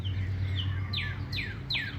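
Birds chirp at a backyard bird feeder, a string of about three or four sharp descending chirps over a steady low hum, fairly close and clear.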